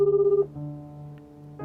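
A telephone rings back unanswered during a call; one clear ringing tone sounds at the start, then a low steady line hum continues alone.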